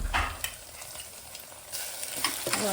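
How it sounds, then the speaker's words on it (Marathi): Garlic and chili paste fries with onion in a pan, giving a steady close sizzle with a few scraping stirs and clinks over it, moderately quiet and with no talk. "लसूण मिरचीची पेस्ट टाकायची आपण त्याच्यामध्ये"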